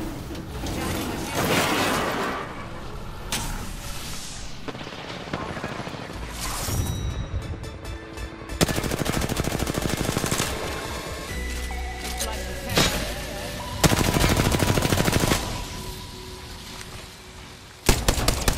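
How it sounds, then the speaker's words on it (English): Rapid gunfire bursts and booming explosions from an Apex Legends ranked match, loud and dense, with overlapping automatic fire, impacts and game effects throughout. "Being shot at."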